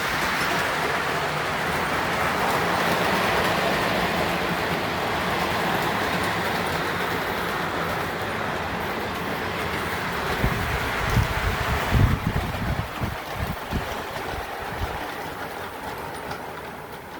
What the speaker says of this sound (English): I'm running my Lackawanna F units, and of course, my favorite Lackawanna caboose